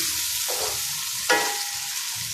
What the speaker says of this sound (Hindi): सिर्फ़ु हिननि खे थोरो फ्राई कंदसि